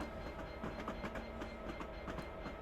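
A train rolls steadily in a simulator game on the Settle to Carlisle line, a continuous low rumble with faint rhythmic clickety-clack of wheels over rail joints, moderately quiet and alone without talk.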